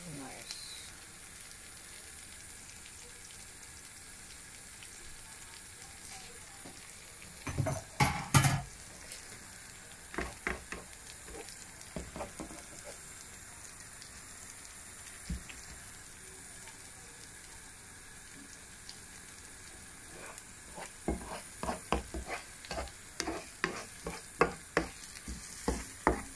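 Spicy egg omelette with mushrooms frying in a pan, a low steady sizzle punctuated by scattered sharp crackles and spatula scrapes, with a burst of louder clatter early and denser pops toward the end.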